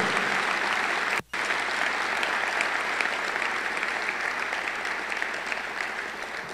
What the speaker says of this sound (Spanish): Vamos, vamos, sella ese momento con un aplauso